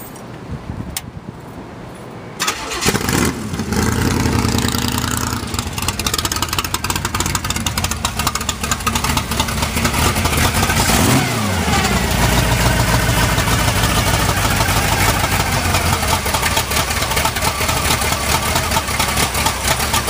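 A 1963 Mercury Comet gasser with a gear-drive engine fires up after a quiet start and runs loud and close, with a rough, lopey idle punctuated by sharp revs. The run continues steadily to the end with no talking.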